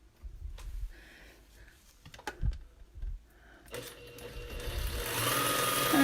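A very basic pedal-operated sewing machine with no speed governor, first a few stitching bursts and clunks, then running continuously and steadily louder at full speed, close by, no talk.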